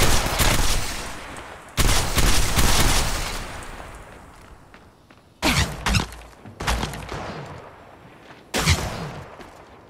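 Loud, close gunfire from the video game Apex Legends, with long sustained bursts followed by several shorter rapid volleys, separated by brief quieter gaps.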